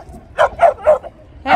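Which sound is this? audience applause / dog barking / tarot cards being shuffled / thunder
dog barking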